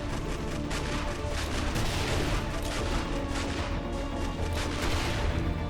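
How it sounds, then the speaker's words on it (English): Grenade explosions in the video game 7 Days To Die keep up a dense, continuous roar of overlapping booms and crashes at steady, loud volume, with no voices. "chuck some grenades at this guy"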